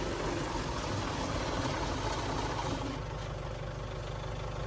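A Hino KT 925 ten-wheel truck engine idles steadily nearby, a continuous low rumble with a fine rhythmic chug, no voices over it.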